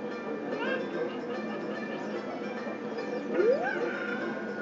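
A puppy in the video game Zelda Ocarina of Time gives short yipping, whimpering barks, two brief rising cries over a constant game background, with faint voice-like sounds mixed in.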